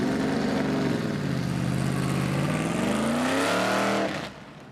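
NASCAR stock car pulling away at Daytona, its engine loud and close, revving up steadily through a rising pitch for about four seconds before cutting off abruptly.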